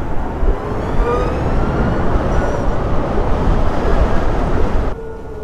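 Ovaobike 125cc 11 kW electric motorcycle riding through city traffic, a steady broadband road and wind rush with a faint motor whine that cuts away abruptly near the end.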